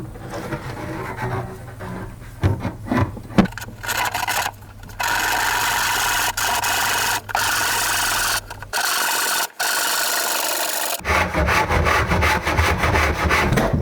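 A power saw cutting wood while fitting a table saw, run backwards to clear its motor: scraping strokes at first, then several sustained buzzing cuts separated by short pauses, ending in a final continuous cut.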